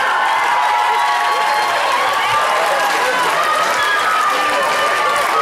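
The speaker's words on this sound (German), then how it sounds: "Einen kräftigen Applaus für die Anna Katharina" Loud audience applause at a talent show final, dense continuous clapping with cheering and shouts from a lively crowd, close and energetic throughout.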